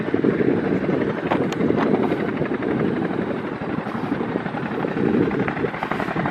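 A tandem dual-rotor helicopter flies overhead near an air museum, its steady loud rotor thrum and engine roar filling the whole stretch without a break.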